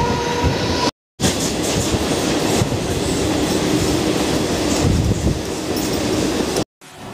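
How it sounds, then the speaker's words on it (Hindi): A fast commuter train rushes through Sion station in Mumbai, a loud, close roar with rapid clickety-clack from the wheels that carries on continuously without voices. "ये देखो आप फास्ट ट्रेनें कैसे गुजरती हैं यहाँ से"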